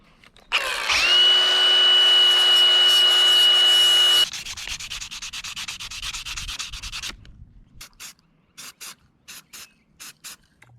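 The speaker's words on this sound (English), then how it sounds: "I'm gonna hit these with a quick grind off real quick with the flap disc" Flap disc on an angle grinder grinding minibike bolts, a loud continuous high-pitched abrasive roar for about four seconds, then lighter intermittent grinding passes and short bursts up close, with no talking.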